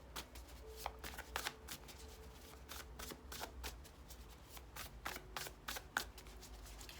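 A deck of Muse Tarot cards is shuffled up close, and the riffles and snaps repeat in an irregular rhythm over a quiet background, with no talking.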